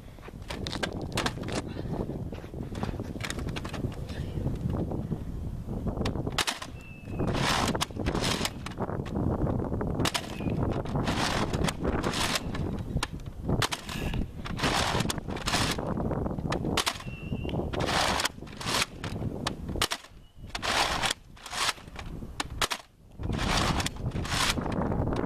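A Nerf Mega Centurion blaster fires darts outdoors in the wind. About a dozen sharp, loud pops come in irregular bursts over a breezy background.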